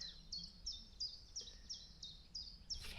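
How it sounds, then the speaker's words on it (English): Birds sing at a campsite on a dry, brightening spring morning, a clear high chirp repeating in a steady rhythm about every third of a second, fairly close and alone over quiet background hiss. "Yeah, birds."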